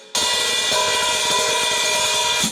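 An open hi-hat on a drum kit, the pedal-operated cymbal pair played with the cymbals apart, gives one sustained bright wash that rings steadily for over two seconds before it is cut short.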